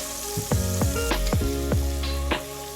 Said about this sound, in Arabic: خليهم كرمال يغلوا مع الصوص